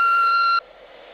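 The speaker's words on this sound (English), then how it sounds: "leave a message after the tone" An answering machine's message tone: one steady, clear electronic beep held for about half a second, then cut off abruptly, leaving faint line hiss.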